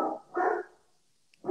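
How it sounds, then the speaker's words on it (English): Dogs bark in three separate, fairly close woofs, with a short quiet gap between the second and third. "I got dogs barking."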